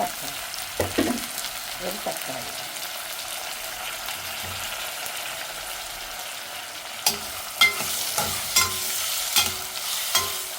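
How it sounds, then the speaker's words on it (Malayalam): Tomato fries in very hot oil for an egg curry, giving a steady soft sizzle close by with occasional clicks and scrapes of stirring and no talking. "നല്ല ചൂടുള്ള എണ്ണ കൊണ്ട് അതിൻ്റെ പച്ച ചുവ വേഗം പൊരിച്ചോളും"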